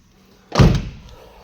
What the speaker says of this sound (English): that's the door catches sticking